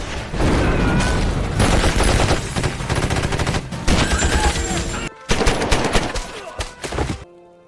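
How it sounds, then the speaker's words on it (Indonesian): Rapid, loud bursts of automatic gunfire and shots ring out in a chaotic exchange at a harbor in a film, ending abruptly. "Kita kembali ke pelabuhan di mana terjadi baku tembak"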